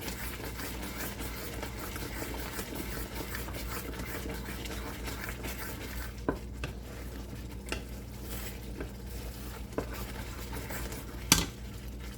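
Stirring a gund (edible gum) sweet mixture in a cooking pot for peda: a steady, soft scraping texture runs throughout, with a few sharper clinks of the spoon against the pot near the end.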